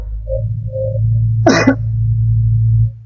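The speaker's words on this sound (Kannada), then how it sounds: "ಲೈಟ್ ಆಗಿ ಕೆಮ್ಮು" A single sharp cough bursts out over a low steady hum, with faint tones before it and quiet afterward.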